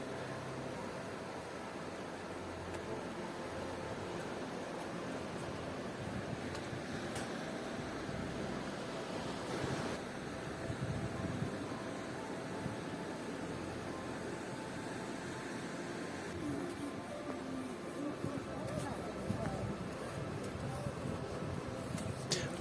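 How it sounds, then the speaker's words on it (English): Loud winter surf on the seafront at Filey, a steady broadband roar of breaking waves and wind that holds for the whole stretch without pause, rising slightly toward the end. "That's because the waves are so noisy."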